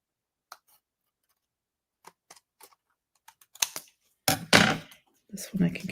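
Scissors trimming paper card while making a greeting card, a few sparse snips and clicks growing into closer crunching cuts, with a voice heard near the end.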